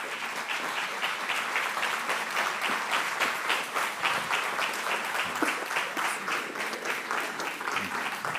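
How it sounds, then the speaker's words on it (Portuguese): An audience at a literary talk welcomes an author with steady, dense applause of many hands, close and sustained at an even level throughout. "Por favor, uma salva de palmas para Isabel Rio Novo"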